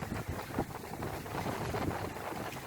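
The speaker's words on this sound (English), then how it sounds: "we're doing over 5 knots, full sail up again" Sailing boat running under full sail at over five knots on a summer cruise to the Isles of Scilly, with steady wind rush and water noise and wind buffeting the microphone throughout.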